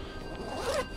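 Zipper on a Lowepro Highliner X400 camera roller bag being drawn, a short close scratchy rasp lasting about a second.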